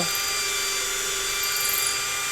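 A power drill bores into a 1/6 scale resin model kit with a continuous, even, high whine that holds steady, close up and alone.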